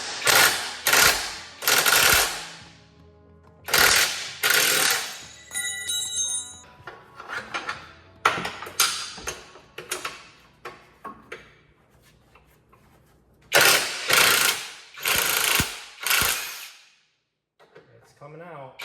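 Ratchet with an 18 mm socket loosening a control arm bolt on a VW Jetta GLI (MK6), heard as repeated bursts of rapid metallic clicking separated by short pauses, close and fairly loud, with a few faint clinks near the end.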